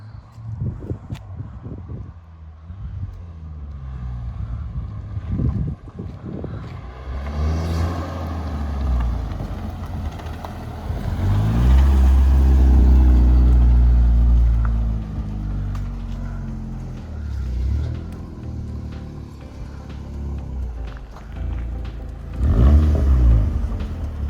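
A Volkswagen Scirocco R on a test drive after servicing, its engine rising and falling as it accelerates hard in several surges, with road and wind rumble and no talking.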